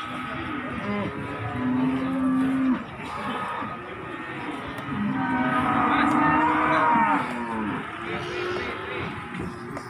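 Several cattle moo in long, low calls at a cattle market in Margorejo, Pati, over a busy background of mixed animal noise and distant activity, one loud bellow standing out near the start.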